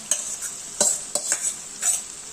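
Vegetables stirred into fried masala in a pan for a traditional Bhogi bhaji, with a few distinct scraping stirs and a light sizzle underneath, close and fairly quiet, no talking.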